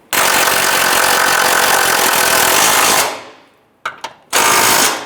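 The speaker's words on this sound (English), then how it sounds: "Let's go ahead and finish tightening up these lower bolts." Power tool or impact wrench running steadily and loud while motor mount bolts are tightened on a 2005-2010 Chrysler 300, cutting off after about three seconds, followed by two brief bursts and another sustained loud run.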